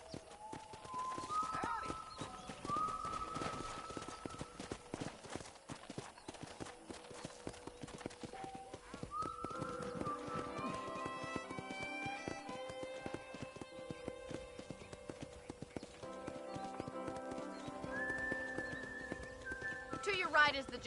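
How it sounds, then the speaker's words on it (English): Horse hooves clip-clop steadily on a ranch in the Red Dead Redemption 2 video game, a continuous rhythm under background music and someone talking. "let's see if you can still ride a horse"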